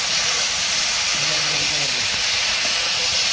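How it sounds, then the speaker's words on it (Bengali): Fish frying in hot oil in a village kitchen, a steady dense hiss and sizzle filling the whole stretch, loud and close, with faint background voices. "হ্যাঁ, মাছ ভাজি হয়ে গেছে।"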